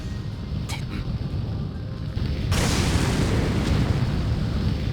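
Cannon fire in the video game Hakuoki: Kyoto Winds, a sustained rumbling barrage of distant booms that swells louder midway through and continues as a dense, continuous roar.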